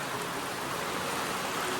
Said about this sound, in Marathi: कसला जोरात पाऊस आलाय